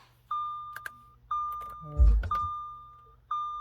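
A 2010 Audi Q5 3.2L V6 FSI Quattro being switched on, with a series of clear electronic chimes repeating about once a second as the ignition comes on, and a short low rumble partway through.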